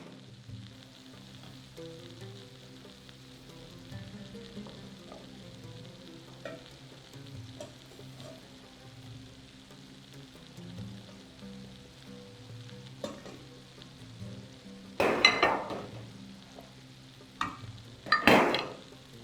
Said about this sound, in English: Once we have shaped the ground meat, let's add it to the sauce.